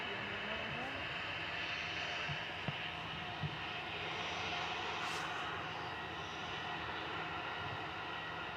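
At Manchester Airport, an airliner taxis out bound for Lanzarote, its engines a steady distant whine and rumble, with a faint background hiss and a couple of small clicks.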